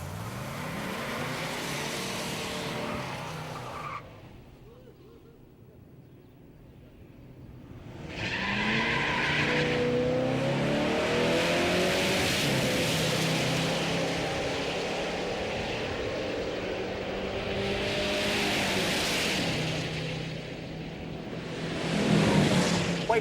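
Muscle cars, including a silver automatic with a tall rear gear and an LS6, roar through a race shootout, loud engine revs rising and swelling with a brief lull mid-run before the pack surges again, tire noise near the end.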